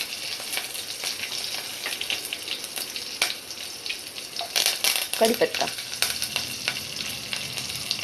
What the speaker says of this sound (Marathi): त्यात मी आता सगळं फोडणीचं साहित्य टाकणार